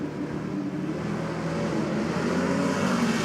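LS2 V8-powered Nissan 180SX drag car at a race meeting, a loud steady rumbling engine drone with a slight rise in level toward the end.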